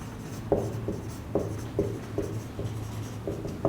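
Pen writing on paper while a study plan and syllabus schedule are jotted down, a steady soft scratching broken by several sharp strokes and taps, close and fairly quiet, with no talk over it.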